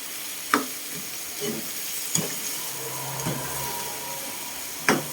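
Squid adobo with curry powder sizzles in a pan while a spoon stirs it. A few separated scraping strokes sit over a low, steady frying hiss, close and moderately loud, with no talking.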